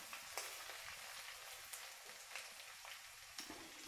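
Garlic and ginger fry in mustard oil in a pan, a steady close sizzle with occasional soft stirring scrapes.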